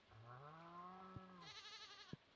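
Farm goats bleating in the game Stardew Valley, one long wavering cry followed by a higher, shakier bleat, close and clear with two faint thumps, no talking.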